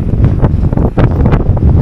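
Loud wind buffeting the microphone in heavy, rumbling gusts, close and continuous with no voices.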